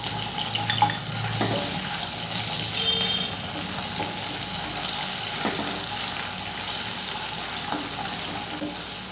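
Ginger and garlic paste sautéing in a pan, a steady frying sizzle with a few faint clinks of a spoon against the pan throughout.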